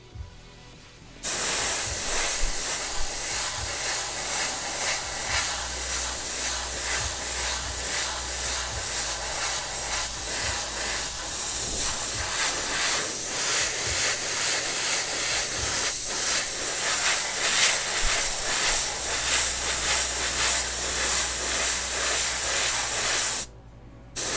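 Aerosol spray paint hisses steadily onto the seat mounts of a Tamiya Volvo FH12 1/14 scale RC truck kit, one long continuous loud blast close up that starts abruptly and stops just before the end.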